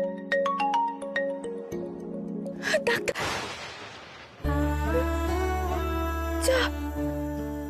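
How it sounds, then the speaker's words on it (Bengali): A phone ringtone melody plays, briefly interrupted by a rustling swish, then the tune resumes louder and steadier. "ফোনটা তোলো গৌরী, প্লিজ ফোনটা তোলো।"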